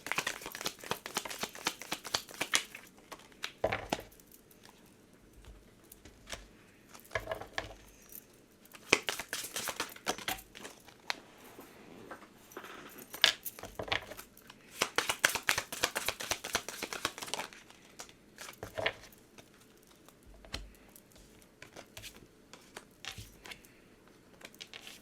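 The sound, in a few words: tarot and oracle cards being handled and shuffled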